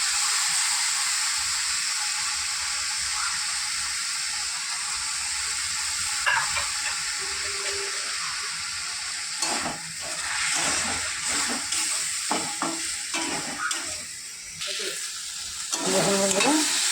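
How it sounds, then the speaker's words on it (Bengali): Banana flower fries in a kadai for mochar ghonto, giving a continuous soft sizzle and hiss, then bursts of scraping, clattering stirs as it is turned in the pan, close by with no speech. "দেখুন মোচাটা ভাজা ভাজা হয়ে গেছে"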